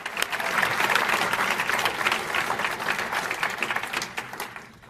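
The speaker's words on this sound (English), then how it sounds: "Can we give one more round of applause for Juliana and Carl?" An audience at a university athletics awards celebration claps in a sustained round of applause, a dense crackle of many hands close and fairly loud, swelling early and then slowly fading out.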